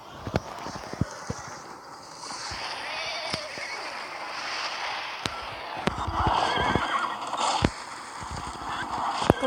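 Horse in a video game whinnying and snorting over a busy, noisy mix of sharp hoof clip-clops and rushing wind or motion.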